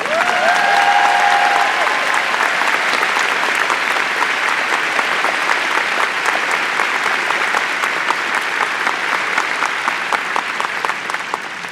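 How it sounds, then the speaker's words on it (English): A large audience at a musical celebration honoring Richard M. Sherman breaks into loud, sustained applause, dense clapping holding steady throughout with a brief tone at the start and no talk over it. "So how about a special applause?"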